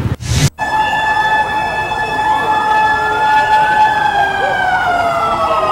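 A loud fire truck siren wails steadily during a fire drill, its tone sliding slowly, after a brief sharp burst of noise at the start.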